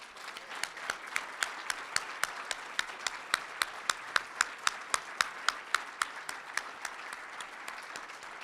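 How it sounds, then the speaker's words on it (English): A room applauds at a business person of the year event, a steady wash of many hands with one nearby clapper landing loud, evenly spaced claps throughout. "please join me in a heartfelt round of applause for our founder, Tony Larson"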